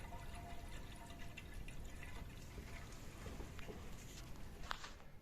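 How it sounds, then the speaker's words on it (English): Water rushes steadily through old plumbing in a run-down Soviet-era hotel in Belarus, a continuous faint hiss and gurgle with a few drips and splashes near the end. "Water's coming through."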